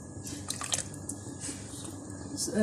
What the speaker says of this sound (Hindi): इसमें 2 टेबलस्पून सिरका डालेंगे